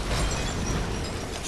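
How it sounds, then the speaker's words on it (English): A loud, sustained rumbling blast fills the clip, a deep booming video game explosion with crackling debris noise, no speech over it. "That was massive, that explosion."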